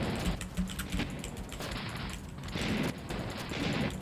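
Gunfire in the video game Ordnance, a rapid, continuous patter of shots packed densely together and fairly loud throughout, with no pauses and no voices.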